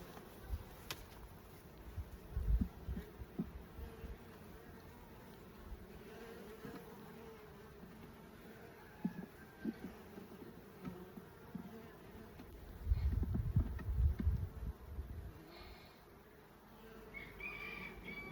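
Honeybees from a recovered swarm buzz around an opened beehive, a constant close hum with scattered louder passes of individual bees, swelling near the end; no one speaks.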